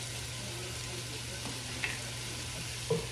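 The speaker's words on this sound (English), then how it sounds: "Get those into the hot pot as well." Tomatoes sizzle quietly in a hot pot, a soft steady frying hiss under a low hum with a couple of faint clinks.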